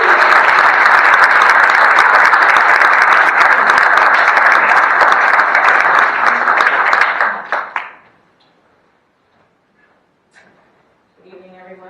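An auditorium audience at a game-changers anniversary celebration breaks into loud, sustained applause for about seven seconds before it tapers off into near silence, after which a single voice begins speaking.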